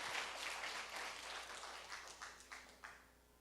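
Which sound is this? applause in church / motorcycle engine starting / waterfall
applause in church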